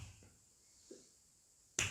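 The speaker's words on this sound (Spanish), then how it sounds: "un chasquido se puede hacer" A single sharp finger snap near the end, loud and alone in an otherwise quiet room, preceded by faint soft clicks.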